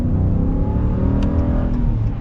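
The 6.4-liter Hemi V8 of a 2022 Ram Power Wagon truck drones steadily while driving, a deep, even engine rumble that swells slightly, heard from inside the cab with no talking.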